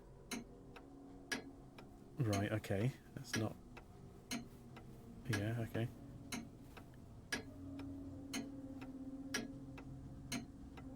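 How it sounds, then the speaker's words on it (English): A grandfather clock in the Syberia 2 video game ticks steadily after its pendulum is pushed, with evenly spaced sharp ticks running throughout while people talk over it at intervals. "And push the pendulum. The clock is working again."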